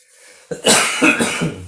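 A person coughs several times in quick succession, close and loud, after a moment of quiet.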